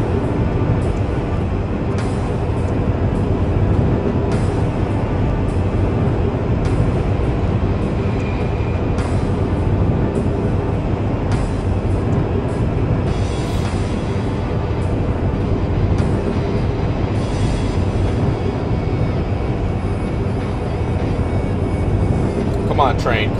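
A train rumbles along steadily in the Chaser video game, a broad, continuous mechanical roar that holds at one level for the whole stretch with no clear breaks.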